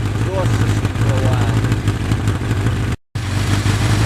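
A 1982 Suzuki GS1100E motorcycle rumbles steadily through its exhaust at close range, a loud, even, mellow engine drone that drops out briefly near the end.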